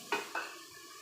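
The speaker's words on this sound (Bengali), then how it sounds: "মশলাগুলো ভালো মতো কষিয়ে নেবে" Spices, including turmeric and chili powder, are stirred and sautéed in a pan with a splash of water. Two quick scraping clatters of the stirring utensil against the pan stand out over a quiet background.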